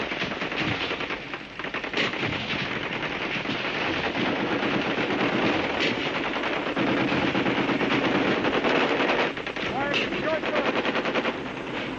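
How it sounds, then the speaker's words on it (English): Sustained machine gun fire during a bombardment of a river island village in South Vietnam's Mekong Delta, with dense, continuous bursts of rapid shots loud and close, with no pause across the whole stretch. "After the broadcast came the bullets. The bombardment lasted a full hour."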